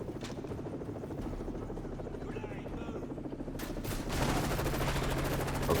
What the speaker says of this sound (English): That helicopter ours?